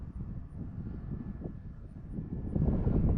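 An Arrows RC Tecnam 2010 model airplane flies outdoors on a grass field, giving a steady low engine drone mixed with wind rumble that grows slightly louder toward the end.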